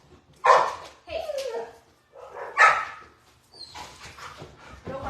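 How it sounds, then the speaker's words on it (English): A dog barks in several loud bursts indoors, with people talking around and between the barks. "No barking."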